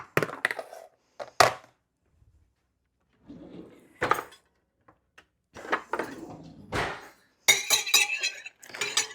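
A raw egg is stirred into garlic mashed potatoes in a bowl, giving sporadic clinks and scrapes of a utensil against the dish in short bursts separated by quiet pauses, close and fairly crisp.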